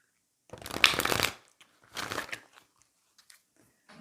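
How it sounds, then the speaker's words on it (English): A deck of oracle cards is shuffled up close for a reading, with two crisp bursts of riffling and sliding followed by a few small taps and soft handling sounds. "I just did the shuffle for the Rumi card"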